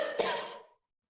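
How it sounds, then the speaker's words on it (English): A single short throat clear, close and quiet, fading out within a second into silence. "So I just need to clear my throat now."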